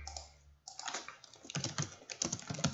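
Computer keyboard typing, quick close clicking keystrokes in irregular bursts after a short pause, with no talking.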